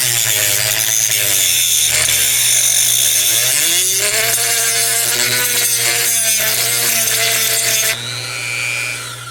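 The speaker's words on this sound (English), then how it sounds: "I think I'll just try to grind off the rivets over here." A grinder whines and rasps loudly as it grinds off rivets on a failed main A/C disconnect switch, pitch rising and falling as the load changes, close and continuous before easing near the end.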